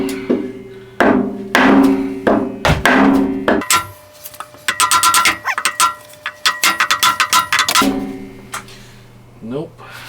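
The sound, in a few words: hammer knocking on wood block to free washer bearing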